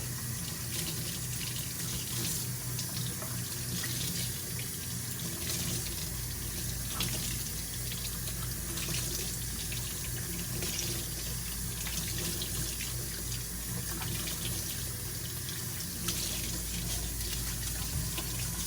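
Water runs steadily from a tap while paint brushes are washed, a constant close splashing hiss lasting the whole stretch with no pauses.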